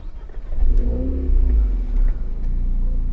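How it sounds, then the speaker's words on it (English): A Renault Megane RS engine cranks and fires up, rising quickly into a strong idle rev with a deep exhaust note that settles into a steady, close-up burble. "Let's start the car."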